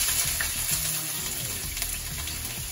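Chopped onion frying in about three tablespoons of oil in a wok, a steady close sizzle with soft crackles and no voices over it.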